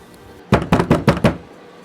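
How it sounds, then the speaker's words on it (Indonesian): Loud banging on a door: a burst of about five heavy, closely spaced knocks, near and alone after a moment of quiet. "pintu itu digedor dengan kencang"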